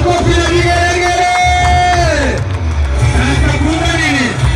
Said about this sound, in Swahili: Tunapika makofi na vigelegele.